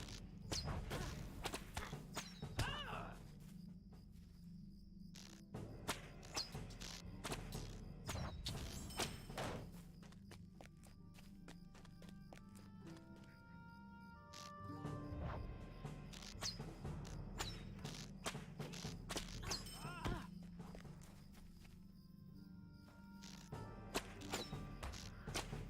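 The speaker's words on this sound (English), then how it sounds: "Somebody's got fireworks going out outside." Fireworks going off outside give scattered dull thuds and sharp cracks at irregular intervals, faint and distant, over quiet background sounds.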